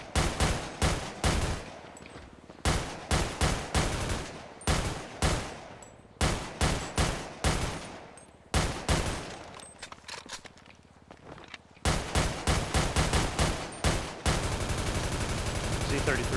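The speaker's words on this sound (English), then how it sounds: "I've had shots fired at my cruiser." Gunfire in a police roleplay video game, repeated sharp rapid bursts and single shots in clusters, loud and close, with short gaps between volleys and a final sustained burst.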